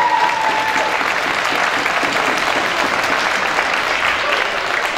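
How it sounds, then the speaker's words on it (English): A round of applause for both fighters after a boxing bout, dense continuous clapping from the crowd, loud and sustained throughout with a brief tone at the start. "So a round of applause for both fighters"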